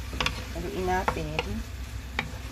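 Sliced burdock root stirs in dashi made from bonito, a soft scraping and gentle sizzle with a few light clinks of the utensil, and a voice speaks briefly.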